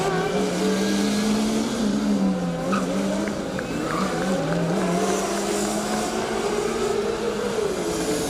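A Formula Student race car laps an endurance track, its engine droning loud and steady with pitch sweeping up and down through gear changes as it runs past, constant throughout.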